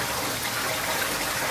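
A bucket of used grooming water for a Shih Tzu is poured out in one steady, loud gush that continues without a break.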